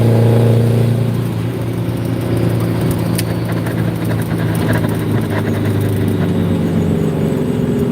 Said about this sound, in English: Let's hit the gas on this, man. We're gonna catch up to that guy.